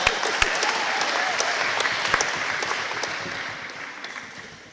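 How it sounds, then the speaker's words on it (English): Audience applause fills a school awards assembly for a middle school student walking up to the stage, steady dense clapping with a few sharp claps standing out, slowly thinning toward the end. "make sure you give him a round of applause"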